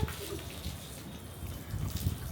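Water pours and splashes while Zeebo the dog gets a bath on a rooftop terrace, a soft, low, uneven gushing with small fluctuating splashes close by.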